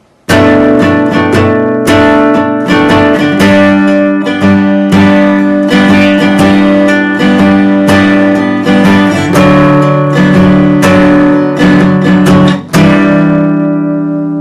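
Acoustic guitar plays part 2 of a song, steady strummed chords in a continuous rhythm with a brief dip near the end, close and loud with no voice.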